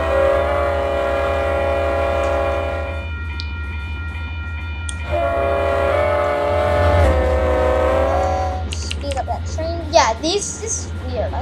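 A train rumbles past a TRC crossing in a video game, a long sustained horn blaring in two stretches, wheels clattering steadily beneath, ending in scattered mechanical clanks.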